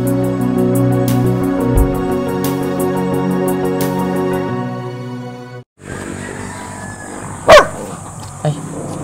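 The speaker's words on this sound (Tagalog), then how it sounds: "Ay, may aso." A dog barks a few times in an outdoor Philippine village setting, sharp loud yelps near the end after a stretch of steady tonal background sound, with people around.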